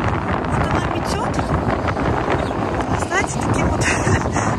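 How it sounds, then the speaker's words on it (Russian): Strong, icy winter wind blows outdoors on a frosty day with drifting snow, roaring loudly and continuously against the microphone in gusty buffeting bursts. "Так, ветер на улице ужасный, ребята, если честно."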